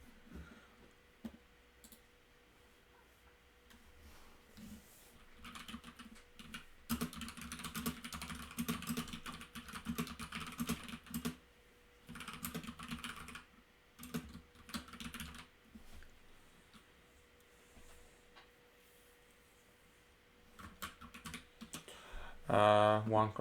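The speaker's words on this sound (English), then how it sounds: "I was just busy typing." Steady typing on a computer keyboard during an online bridge game, a quiet run of close key clicks with brief pauses between bursts, under low room noise and no talk.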